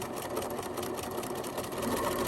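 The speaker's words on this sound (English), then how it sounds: "I'm going to backstitch all the way over the strap." A sewing machine backstitches over the strap of a drawstring bag, its motor and needle whirring in a steady, fast, continuous chatter close by.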